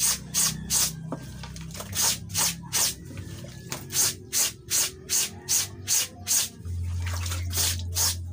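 A brush scrubs clothes during hand-washing of laundry in rhythmic back-and-forth strokes, a close, regular run of rasping swishes, ending with a steady low hum.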